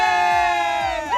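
A crowd of children cheers and shouts loudly at an Easter Sunday gathering, a dense burst of high voices close by that rises and swells briefly.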